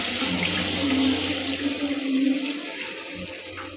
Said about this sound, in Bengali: এবারে জলটা ঢেলে দিচ্ছি, গরম জলটা যেটা কাছে বসানো ছিল।